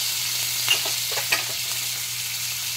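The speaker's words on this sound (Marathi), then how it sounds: "त्या बटरमध्ये हा कांदा भाजायला घालायचा आहे, टोमॅटो भाजायला घालायचा आहे" Onion and tomato fry in butter in a pan for paneer tikka masala, a steady close sizzling hiss broken by a few brief sharper crackles and stirring clicks near the middle, with no talking.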